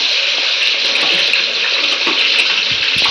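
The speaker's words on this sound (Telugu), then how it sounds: "నూనెలో ఈ ముక్కలు ఫ్రై చేసుకుంటున్నాం." Chicken pieces for chicken pulao frying in hot oil, a loud, steady, dense hiss of sizzling that runs unbroken throughout with no talk.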